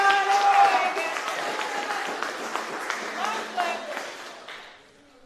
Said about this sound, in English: Let's give him a big cheer, guys.